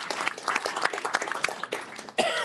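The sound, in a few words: applause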